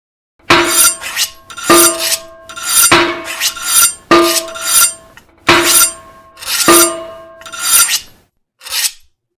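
Sheffilas monster sound from a My Singing Monsters-style game based on Little Nightmares characters: seven raspy, scraping bursts with clinking metallic overtones, repeating in a steady rhythm, loud and close, with no voices.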